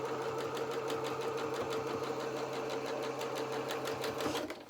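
A sewing machine runs steadily close by, stitching along the edge of a small felt duffle coat hood for a doll, with an even rapid rhythmic chatter and no pauses.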